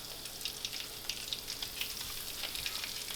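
Okra fries frying in hot grease, a steady close sizzle with quick crackling pops scattered throughout, no voices.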